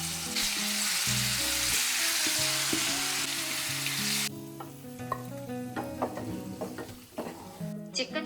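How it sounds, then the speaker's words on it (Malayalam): Chicken pieces shallow-frying in sesame oil in a pan, a loud steady sizzle that suddenly drops to quieter crackling, with scraping and stirring clatter close by. "കുറച്ച് നല്ലെണ്ണ ഒഴിച്ചിട്ട് നമുക്ക് ഇതൊന്ന് പൊരിച്ചെടുക്കാം"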